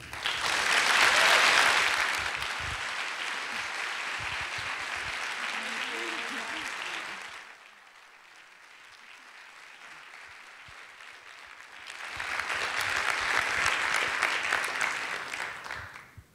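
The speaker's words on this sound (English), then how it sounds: "Let's give her a warm," A church audience at a Sunday talk gives warm applause, loud and sustained at first, fading to a quieter stretch around the middle, then swelling again to a strong closing burst.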